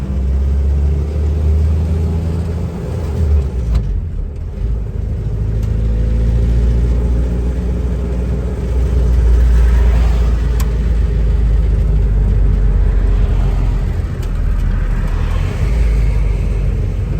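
A 1959 Willys Jeep Wagon engine drones steadily while driving in light traffic, a low continuous rumble that swells slightly midway, with road noise throughout and no talking.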